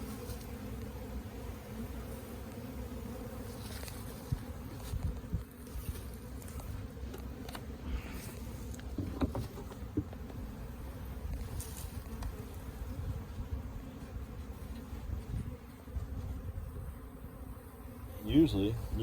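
Honeybees buzz steadily around their hives during a spring build-up inspection, a continuous droning hum with individual bees passing close now and then, no talk over it.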